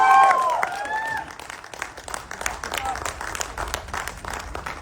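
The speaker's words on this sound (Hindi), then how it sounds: "एक बार जोरदार तालियां बजा लें" A crowd applauds at a film trailer launch event, with warm clapping that rises sharply at first and then thins into scattered claps, while a voice and some whoops are heard at the start.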